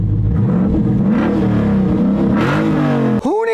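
A sports car with a track key and stiff racing clutch starts and revs, its engine climbing and falling in loud, close bursts before a sharp cutoff.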